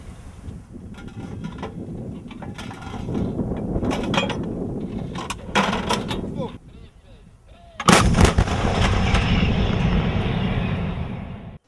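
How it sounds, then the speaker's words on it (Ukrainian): Heavy 152 mm Hyacinth artillery guns fire in loud, booming blasts during a military exercise, several reports with rumbling echoes, followed by a brief lull and another powerful shot. "боги війни відкрили вогонь зі 152 мм гармат гіацинт"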